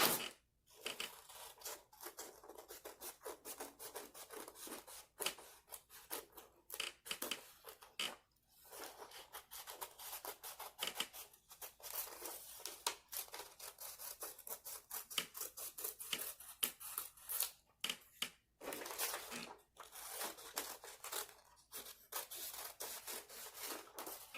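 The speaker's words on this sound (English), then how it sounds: "Now, you need to cut your decorated circles out." Scissors snip around decorated paper circles in a long, quiet, close-up run of crisp cuts and paper rustles, with short pauses as the paper is turned.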